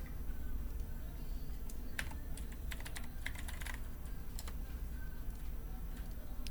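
Rapid bursts of keyboard typing clatter near and fairly loud through the clip, riding over a steady low room hum during a live LAN racing event.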